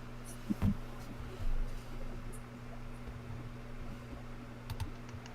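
Light taps on an Android tablet's keyboard come in a scattered, irregular run, faint and close over a steady background hum. No one is speaking.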